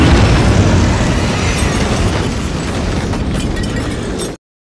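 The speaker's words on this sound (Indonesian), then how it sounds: "Lalu Carrie menjatuhkan tiang listrik, sehingga terjadi ledakan." A loud, sustained roaring blast fills the space, a rumbling explosion set off by a downed electric pole, with crackling debris, holding for several seconds before cutting off abruptly.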